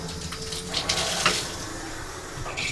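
An apartment water tap with low pressure runs in a steady, close hiss of flowing water with slight splashing fluctuations and no talk over it.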